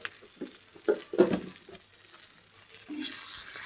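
Tender home-grown vegetables sizzle softly in a pan as chili powder is stirred in, with a few scraping stirs up close over a quiet, steady fry.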